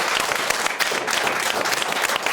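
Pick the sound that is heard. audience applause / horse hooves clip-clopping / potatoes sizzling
audience applause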